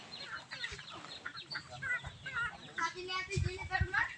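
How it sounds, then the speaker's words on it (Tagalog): A flock of chickens on a rural farm clucking and squawking steadily, close and busy, with people talking over and between the calls. "Ang dami nilang manok, guys."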